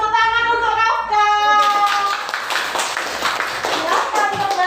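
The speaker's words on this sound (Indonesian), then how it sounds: "Kita beri tepuk tangan untuk Rafka." A classroom of students applauds a classmate with a brief burst of dense clapping that rises and then thins out, following a teacher's voice at the start.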